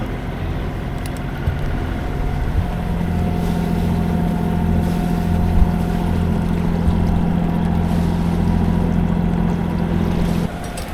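A boat's motor drones steadily on a calm sea while sailing toward the Balearics, a constant low hum with a faint tonal whine and rushing water, running unbroken until it drops slightly at the end.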